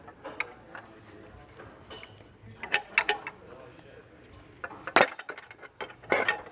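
A thin 32mm wrench and counter-hold tool clink and scrape against the left-hand-threaded fan clutch on a BMW E46 M3's S54 engine, giving sparse metallic taps and clanks in a quiet garage.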